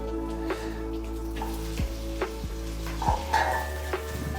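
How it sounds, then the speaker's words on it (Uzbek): Steady, loud sizzling of minced meat frying in hot oil, broken by occasional scraping and clinking as it is stirred in the pan. "Qiymani solib, uni ham qovuramiz"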